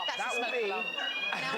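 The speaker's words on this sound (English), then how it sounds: "We must apologise for the smoke alarm" Smoke alarm going off in a TV studio: a steady high-pitched electronic tone running throughout, moderately loud beneath someone talking over it.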